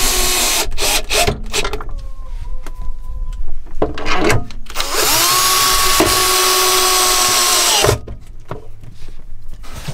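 A power drill whirs in several short bursts and then one long sustained run, with clattering handling knocks in between, while screws go into the floor of a Malibu camper van during installation of an Airhead dry-separating toilet.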